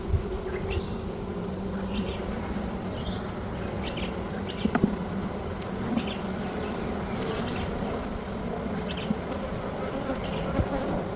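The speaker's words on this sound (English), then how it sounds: "These are big bees." Big, healthy honeybees hum and buzz around an open hive during an autumn inspection, a dense continuous drone close by, with soft scattered clicks and knocks of frames being handled.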